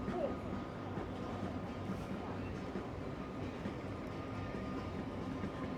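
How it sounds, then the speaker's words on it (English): A steady low rumble of a train running on a viaduct in the distance, continuous and even throughout, with faint street ambience around it. "We've got a train on the viaduct."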